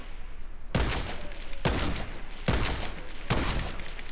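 Gunfire in the video game Fortnite: four loud, sharp shots at an even, steady interval, each one close and punchy with a short decaying tail, and no voices in between.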